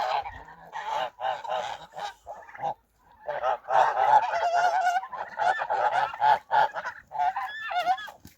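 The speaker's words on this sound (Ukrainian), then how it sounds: "А почав молодий гусак битися." Geese honk loudly and repeatedly in a rural yard while a young gander fights the flock, a dense run of overlapping nasal calls that are close and agitated, with only a short pause.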